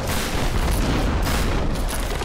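Dense, continuous burst of gunfire and booming blasts in Tomb Raider, loud and close, with overlapping shots and no clear pauses, typical of a game firefight.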